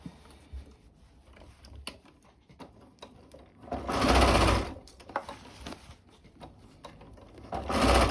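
A sewing machine stitches the seams of a homemade sun dress in two loud whirring bursts, one long and one brief, separated by quieter handling clicks and fabric rustle.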